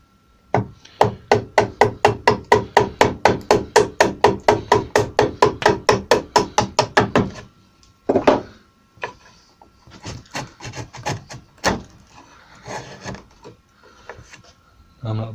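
Chiselling oak for a door frame: a fast run of about thirty evenly spaced mallet strikes on a chisel, followed by scattered knocks, paring scrapes and wood handling sounds, close and loud.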